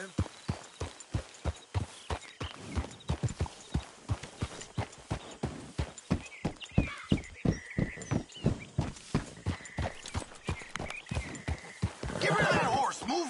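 Horse hooves clip-clopping in the Red Dead Redemption 2 video game, a steady walking rhythm of distinct hoofbeats close by, with some background game sound toward the end.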